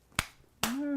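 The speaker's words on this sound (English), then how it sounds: "this is me clapping lazily" Two slow, soft hand claps about half a second apart, done lazily and close by, the second one trailing into a brief low hum from a voice.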